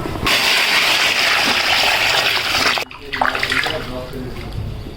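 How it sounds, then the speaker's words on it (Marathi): About fifteen kilograms of potatoes being washed in water before making chips: a loud, steady gush of pouring water stops abruptly partway, followed by close splashing and sloshing as the potatoes are handled. "आधी पाण्यात टाकायचे, हे स्वच्छ करून घ्यायचे."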